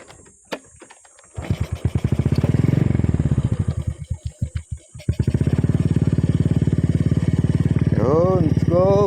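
A motorcycle engine sputters and turns over with rapid pulsing, then catches and runs with a steady, throbbing putter close by, before a ride into the mountains.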